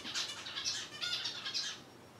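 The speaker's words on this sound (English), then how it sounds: "Go away, bird." A pet bird gives repeated harsh squawks in short bursts, close and fairly loud, with the calls coming in rough clusters and no voices underneath.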